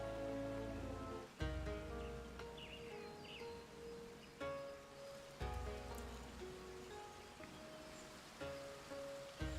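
Rain falls in Final Fantasy XIV as a soft, constant hiss of drops beneath louder game music with sustained tones and repeated note changes.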